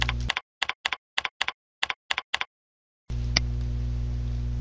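Fingers tap out an email address on a computer keyboard in a series of quick, close key clicks grouped in short runs, followed by a steady background hum after the typing stops.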